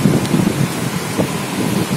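Loud, blustery storm wind blowing off the sea buffets the microphone on Gandoriah beach, with a constant roar of rain and surf, rumbling continuously without a break.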